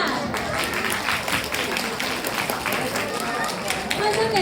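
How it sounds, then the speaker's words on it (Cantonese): Audience applause after a children's performance at a school closing ceremony and Boys' Brigade enrollment event, a continuous dense clapping crowd under a loud amplified voice speaking. "俾多啲熱烈嘅掌聲俾小朋友啦！"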